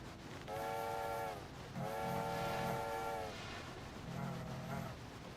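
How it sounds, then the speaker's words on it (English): In a train video game, a boat's whistle sounds three times over a low rumbling background. Each blast is a steady, reedy tone, with the middle blast the longest and the last slightly shorter. "God, I love how the boats whistle back."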